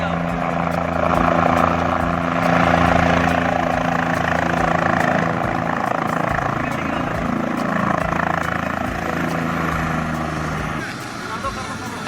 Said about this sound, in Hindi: हेलीकॉप्टर आया, दूल्हा दुल्हन को लाया।